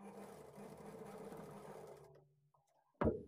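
A sewing machine stitching along the folded edge of a blouse lining, a close rapid whirring run for about two seconds that slows and stops, followed by a brief sharp clack.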